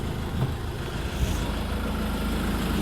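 A Land Rover Defender 130 with the 2.2 TDCi diesel engine idles steadily, a low, even rumble that holds at a constant level throughout with no voices.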